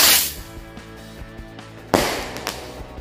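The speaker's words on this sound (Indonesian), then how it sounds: "Selanjutnya kita nyalakan mercon Circle Blitz. Ini bisa meledos di bawah dan juga meledos di atas." A Circle Blitz firecracker goes off in two loud, sharp blasts, one at the start and a second midway, with crackling tails and a faint steady hiss between.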